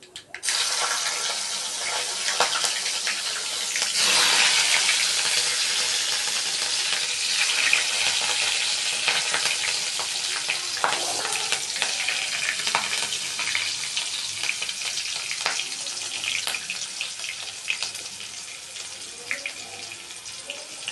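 Green chillies fry in a pan with a steady hissing sizzle over a low gas flame, growing louder after a few seconds and then holding, with occasional sharper crackles and stirring clinks.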